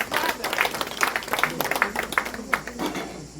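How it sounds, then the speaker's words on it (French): Wedding ceremony guests clap in bursts of uneven, fairly close applause that keeps going for a few seconds, with a little chatter mixed in. "Veuillez acclamer quand même."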